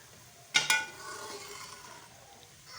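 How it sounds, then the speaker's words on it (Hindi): Spoon gently stirring rice cooked with jaggery in a pot, a couple of sharp clinking scrapes near the start followed by soft, faint mixing sounds. "चम्मच बिल्कुल आराम से चलाएंगे ताकि जो हमारे चावल हैं वो टूटे ना"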